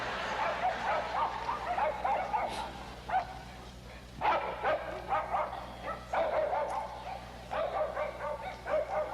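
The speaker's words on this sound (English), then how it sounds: "Yes, you have all these dogs barking." Several dogs bark and yip in repeated bursts over about nine seconds, some with whimpering tones, moderately close and fairly loud against a steady low hum.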